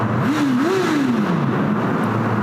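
A Honda CB1000R motorcycle engine revs up sharply and falls back, loud and close, with steady road and wind roar underneath.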